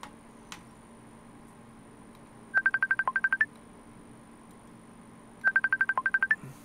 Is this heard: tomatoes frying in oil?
no